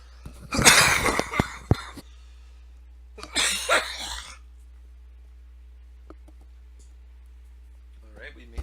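A man coughs in a quiet room, a harsh burst of several coughs followed by a second shorter fit a few seconds later, then near silence with faint clicks.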